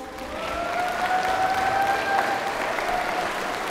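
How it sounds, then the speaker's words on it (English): Steady round of audience applause for rising graduates at a graduation ceremony, a broad wash of many hands clapping at once, with a faint sustained tone running beneath it. "Can we all give them a round of applause?"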